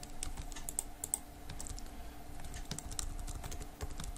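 Fingers type text on a computer keyboard in a quick, uneven run of soft clicking keystrokes, close and steady throughout, with no voices.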